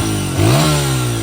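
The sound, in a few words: Honda XR100 pit bike with 120 kit revving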